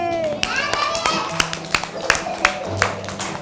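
A group of children claps together for Ethan in a steady, even rhythm of sharp, close claps, with voices talking over the clapping.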